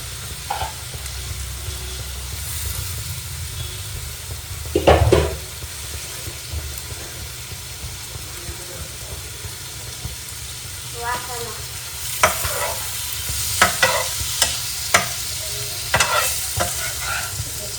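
Small prawns frying in a pan and being stirred, with a steady sizzle throughout and scattered scraping and clattering from the spoon, close by.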